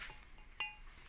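A glass jug clinks as it is handled at a market stall, giving a couple of light, sharp chinks, one brighter than the other, over a quiet background with no talking.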